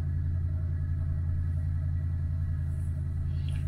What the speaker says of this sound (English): That's somebody's car.